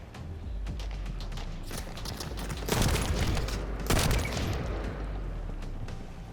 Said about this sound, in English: I shoot a few more people.